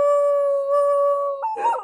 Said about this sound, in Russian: И чё вы на меня гавкаете?